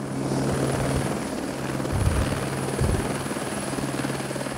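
Helicopter rotor and engine drone, steady and loud throughout, with a slight swell near the middle as it sets down on the ground.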